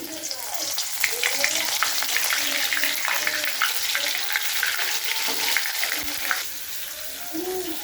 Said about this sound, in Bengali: ফুলকপিটা তেলের মধ্যে ছাড়লাম